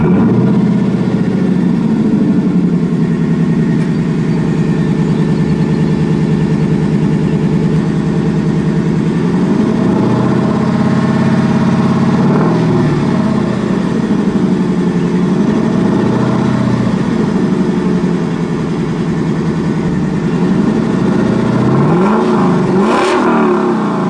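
A 2018 Lexus LC engine runs loud and close, holding a steady idle broken by several swelling revs that rise and fall back, with a final sharper rev near the end.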